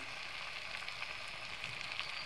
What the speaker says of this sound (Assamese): আলুখিনি আৰু মাংসখিনি সৈতে ধুনীয়াকৈ লৰাই কৰি এনেকৈ ভাজি পেলাম